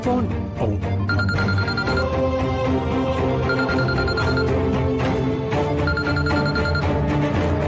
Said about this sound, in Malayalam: ഫോൺ റിങ് ചെയ്യുന്നു.